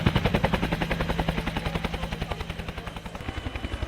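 A Westland Scout AH-1 helicopter at an airshow, its rotor chopping in a fast, even rhythmic thud that stays loud and fairly close throughout, with no voices.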